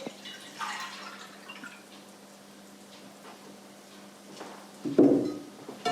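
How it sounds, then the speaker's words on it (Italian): Lime solution is poured over green olives in a bowl, giving dripping, splashing liquid in a few short bursts with a louder slosh near the end, fairly quiet and close. "Comincio versando la soluzione di calce d'acqua"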